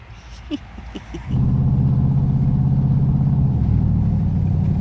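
Pickup truck engine starts rumbling partway through and then holds a loud, steady low idle close by, after quieter handling noises at the start.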